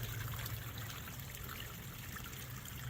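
Water trickles steadily through a full pond's overflow after 2.5 inches of heavy rain, a soft, continuous close-up babble and splash with a low gurgle beneath and no one talking.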